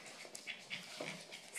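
A dog pants and whimpers close by, with quick breathy pants and soft high whines repeating in short bursts, and no talk over them.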